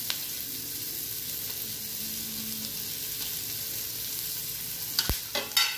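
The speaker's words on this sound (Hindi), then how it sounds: "हल्का सा सौते करेंगे, बहुत ज़्यादा सिकाई नहीं करनी है इनकी" Spring onions, cabbage, capsicum and tomatoes sauté in a kadai, a low, steady frying hiss that ends with a few sharp stirring clatters, with no voices.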